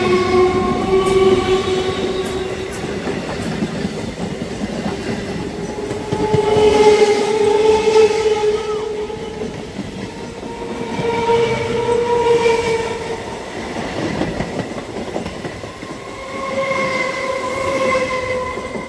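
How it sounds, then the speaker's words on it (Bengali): A Lalgola–Sealdah local train rumbles past at a crossing, with loud, close wheel clatter, squealing metal and horn-like tones rising and falling, and no talk. "দূরে ওই দিক থেকে একটা ট্রেন আসছে বলে ফাঁকা জায়গায় আমাদের ট্রেনটিকে দাঁড় করে রেখে দিয়েছে।"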